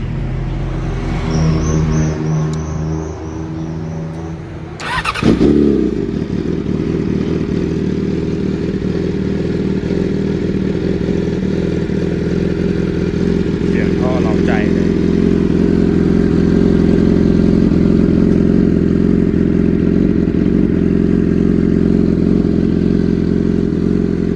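A Yamaha YZF R6 sport bike idles, then its engine and exhaust catch and settle into a loud, steady, close-up running roar. A brief rev swells near the middle, and no voices are heard.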